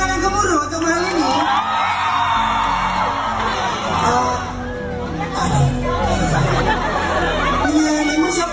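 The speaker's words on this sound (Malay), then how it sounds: "Tepuk tangan yang gemuruh untuk hal ini." Live audience in a studio show breaks into loud cheering and whooping with clapping, a dense sustained crowd roar with shouts rising and falling throughout.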